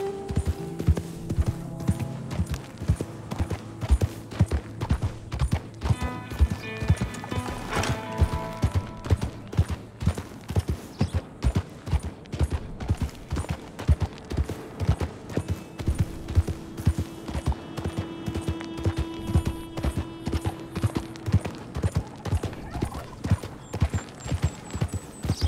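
Horse hooves clip-clopping in Red Dead Redemption 2, a steady rhythmic run of hoofbeats carrying on throughout under game music and ambience, with no talk.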